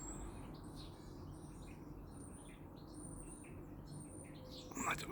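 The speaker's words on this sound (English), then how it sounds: "There's a lot of finches up in the tree there now" Finches in a tree chirp and tweet in short bursts at a distance, faint against a steady outdoor hum.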